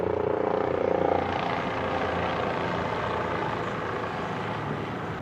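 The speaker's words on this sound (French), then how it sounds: "On entend un petit hélicoptère, je pense que vous l'entendez." A helicopter's rotor and engine drone steadily nearby, loud at first, then easing slightly as it continues past; no talking.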